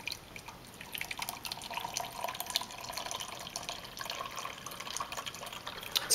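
Water pours steadily from a magic pitcher into a container, a continuous soft splashing and trickling stream at moderate level, close by, with no talk.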